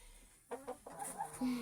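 A hen gives a few short, close clucks in quick succession, ending with a brief drawn-out call.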